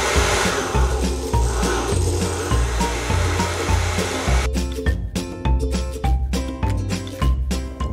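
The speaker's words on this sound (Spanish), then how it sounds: "No hagan esto en casa con la licuadora prendida." A kitchen blender runs loud and steady while Brazilian cheese bread batter is mixed, its motor pulsing in a repeating rhythm and the blades whirring with harsh grinding, then churning more choppily in the last few seconds.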